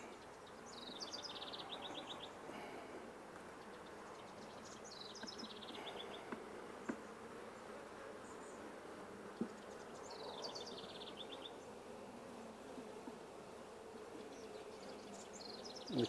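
Honeybees hum steadily around a hive box whose colony has already swarmed, a soft continuous drone close by with faint bird chirps repeating in the background.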